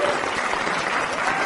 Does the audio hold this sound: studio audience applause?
yes